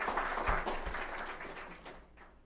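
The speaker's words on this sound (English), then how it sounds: "So please, a round of applause." An audience at a digital transformation awards ceremony gives a round of applause, many hands clapping fairly loudly at first, a couple of sharp near claps standing out before the sound thins and fades away.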